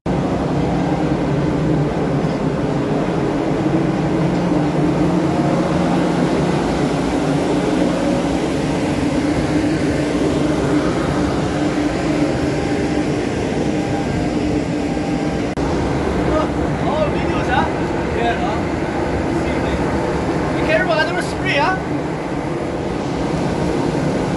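Diesel engine of a ship's rescue boat running steadily, a continuous low rumble that holds through the whole stretch, with faint scattered clanks and voices in the background.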